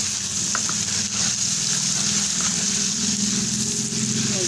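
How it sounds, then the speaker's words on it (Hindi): Sizzling and frying from a hot pan as a little water goes in over tomatoes, Kashmiri red chilli and turmeric for aloo paneer; a steady, close crackling hiss with no talk. "डाला मैंने थोड़ा सा पानी"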